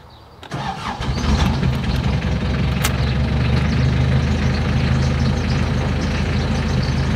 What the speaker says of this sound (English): I'll start the engine, and it should start first try